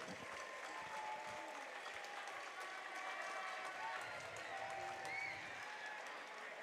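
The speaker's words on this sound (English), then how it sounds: "Let's give a big round of applause for our Indiana Farm Bureau Insurance fans" Sustained applause and cheering from a crowd in a high school boys basketball gym, dense and steady throughout with scattered whoops and murmuring voices.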